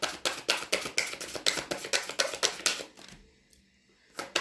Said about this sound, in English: I'm going to pull some cards for you from the Karma cards deck